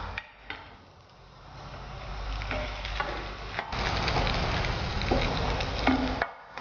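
Bread cubes frying in a pan until dark golden and crispy for a Mangalorean methi pulao: a steady soft sizzle with occasional stirring scrapes and clicks, fairly quiet and close.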